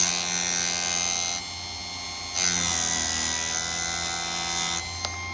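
A Chicago Electric chain saw sharpener grinds a saw chain in two loud bursts of high, harsh whine, each dropping briefly to a quieter motor hum between passes, with a short click near the end.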